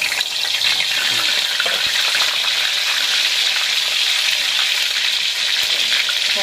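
Red mushrooms fry in hot oil with a dense, continuous sizzle and crackle, close and fairly loud, with faint stirring and occasional background voices.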